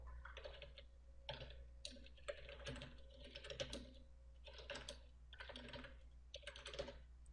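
Keys clatter on a computer keyboard as a command is typed, quick bursts of soft taps in short groups, faint and close, over a steady low hum.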